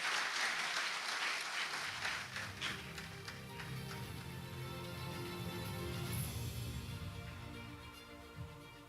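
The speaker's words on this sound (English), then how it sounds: "Ladies and gentlemen, please give a round of applause for Bapak Untarto Wibowo." Conference audience clapping, moderately loud at first and then thinning into scattered claps, with a low hum and faint sounds from the hall underneath.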